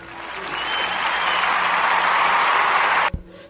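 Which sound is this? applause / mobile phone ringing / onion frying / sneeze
applause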